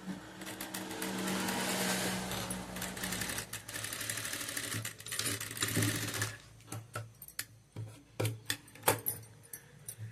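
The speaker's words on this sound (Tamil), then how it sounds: "இந்த மாதிரி தைச்சி திருப்பிட்டு மேலே மறுபடியும் வந்து இன்னொரு தையல் போடணும்" A sewing machine stitches fabric during a tailoring lesson, running steadily for several seconds and then sounding in short, separate bursts of stitching, close by, with no talking.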